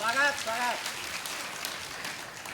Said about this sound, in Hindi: एक बार ताली बजाइए आप सब।